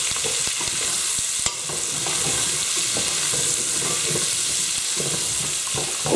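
Onions and garlic frying in butter for chicken chasseur, giving a steady close sizzle as a utensil stirs through with soft scraping and a few light knocks against the pan.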